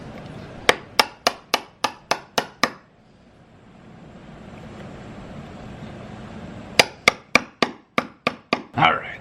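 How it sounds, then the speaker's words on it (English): A hammer strikes repeatedly while a door deadbolt is fitted: two quick bursts of about eight sharp, evenly spaced taps each, close and loud, separated by a few seconds of quiet handling noise. "you can use a hammer."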